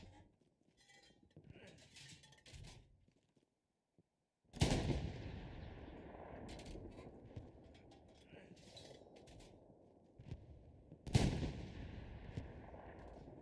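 Two heavy artillery blasts from a field gun in the World War II shooter Hell Let Loose, spaced several seconds apart. Each lands with a loud booming crack and a long rumbling tail, with softer gunfire and battle noise filling the gaps.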